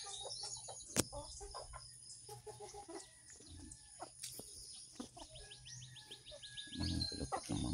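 Chickens clucking and murmuring nearby in a quiet farmyard, with soft scattered calls, a sharp knock, and crickets faintly in the background.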